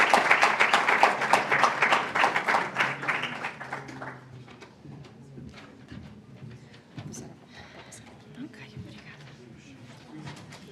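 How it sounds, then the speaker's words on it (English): Applause from a conference audience at an event, strong clapping for a few seconds that fades away, followed by quieter room noise with a voice starting to speak near the end. "A round of applause."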